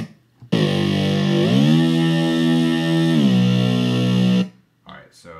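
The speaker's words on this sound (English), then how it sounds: "the massive patch just by itself sounds like this" A bass patch played on the NI Massive synth, one loud sustained distorted buzzing note that bends in pitch partway through and then cuts off, with a voice briefly before and after.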